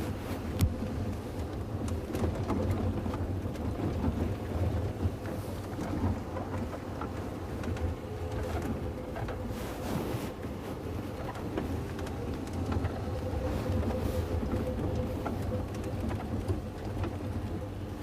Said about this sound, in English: the more I see the storm that's on its way